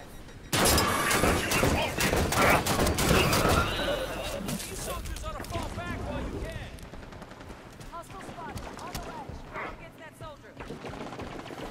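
Heavy gunfire from Halo 5: Guardians gameplay, a loud dense burst of rapid shots in the first few seconds, then sparser shots and game noise under ongoing talk.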